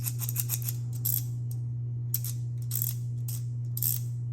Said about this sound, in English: if you do need to adjust, then you just pull it to the fully open position and you just slide it down